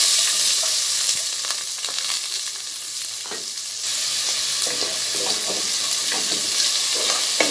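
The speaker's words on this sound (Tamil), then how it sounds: "இதை நாம் நல்லா பொன்னிறமாக வதக்கி எடுத்துக்கலாம்." Chopped large onions sauté in hot oil in a pan for Chettinad mutton curry, giving a steady close sizzle with occasional stirring scrapes throughout.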